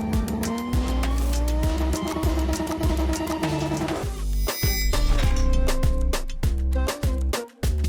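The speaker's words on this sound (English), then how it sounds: "Under the hood, a beautiful straight six. Pure noise, beautiful sound" A straight-six car engine with a manual gearbox revs hard and loud, its pitch climbing steadily over several seconds, then gives way to sharp, clattering bursts and squeals.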